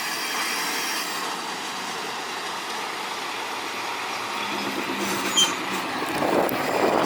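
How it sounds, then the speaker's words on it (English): A diesel train approaches along tracks in rural Hokkaido, a broad rumbling wash of engine and wheel noise growing steadily louder from a distance, with a faint squeal of wheels near the end. "I can hear a train chugging down those tracks coming down the distance. You can hear the engine because it's diesel."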